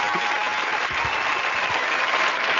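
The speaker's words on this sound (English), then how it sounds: "give me some claps for that" Warm, continuous applause from a studio audience on a chat show, a dense wash of clapping that stays loud and even from start to finish without any talking.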